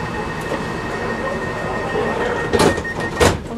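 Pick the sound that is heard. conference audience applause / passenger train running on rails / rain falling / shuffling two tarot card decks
passenger train running on rails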